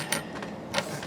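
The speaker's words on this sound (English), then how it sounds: "Screen door keys and travel door keys." A ring of screen door and entry door keys for a 2024 Flagstaff MAC 176LTD travel trailer jingles in two brief, soft metallic rattles, close by and with no one speaking.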